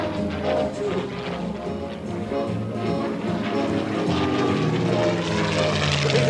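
P-51D Mustang propeller fighter flying at an air show in Tuscaloosa, a rough droning engine roar that swells steadily louder as it approaches.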